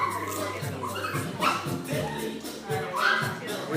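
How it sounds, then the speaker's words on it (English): A pumpkin spice Cavapoo puppy gives up-close yips, short barks and whimpers in a steady run, with human voices talking softly underneath. "Look at this Cavapoo."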